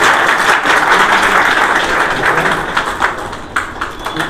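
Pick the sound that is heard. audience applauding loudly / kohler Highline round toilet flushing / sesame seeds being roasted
audience applauding loudly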